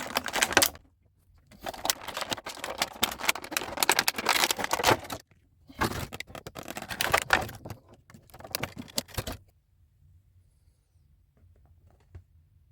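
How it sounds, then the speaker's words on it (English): Plastic packaging of a Black Lantern Batman action figure crackles and snips in bursts as scissors work at it up close, with short pauses between cuts before it falls quiet. "hard to get the scissors up there without like scraping Batman's head"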